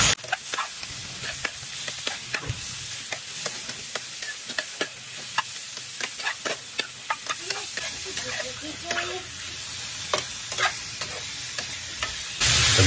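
Pork fat and meat fry in a pan with a continuous close sizzle, broken by frequent sharp crackles and pops and occasional stirring.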